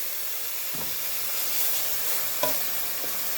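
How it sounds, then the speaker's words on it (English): Meat hits hot oil browned with garlic and ginger for a curry, giving a steady, close sizzling hiss with a few brief stirring scrapes. "I'm just going to add the meat to this hot oil mixture"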